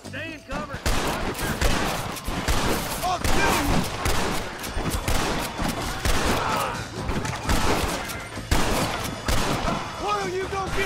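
Repeated rifle gunfire from a Winchester in the Western video game Red Dead Redemption, dense loud shots with clattering action under ongoing in-game voices and noise throughout.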